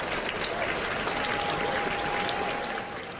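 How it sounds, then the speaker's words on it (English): A crowd at a basketball game claps in a steady, dense roar of applause, broad and sustained, tapering slightly at the end with no clear speech. "What are they clapping for?"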